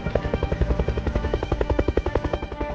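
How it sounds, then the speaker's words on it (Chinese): A helicopter circles overhead in a suspense film, its rotor chopping in a fast, loud, steady pulse throughout. "而天空中一架直升机正在盘旋。"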